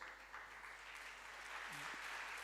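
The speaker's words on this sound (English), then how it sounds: "So we should applaud all the women chairs of all the 14 chapters, Jayanti." Audience applause at a conference, an even wash of clapping from a crowd that holds for a couple of seconds, faint and slightly distant, with a voice briefly heard over it.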